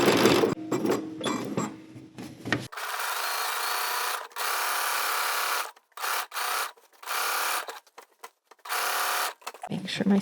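A sewing machine stitches the pocket of a Simplicity 9780 garment in several steady, whirring bursts of varying length, separated by short pauses, after some brief handling noise at the start.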